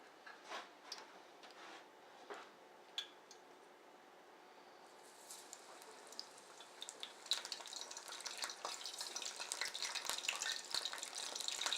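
Food frying in oil already used for egg rolls, a faint crackle that builds into a dense, steady sizzle over several seconds with scattered small pops.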